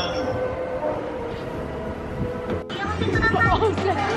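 A local train rolls along with a steady rumble and rail noise inside the carriage, growing a little louder toward the end as people talk over it.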